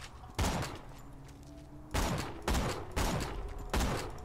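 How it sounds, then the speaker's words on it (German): Gunfire in Borderlands 2 fired into the air, heard as five loud separate bursts with quiet gaps between them and no talk. "Oder wenn ich einfach nur in die Luft schießt."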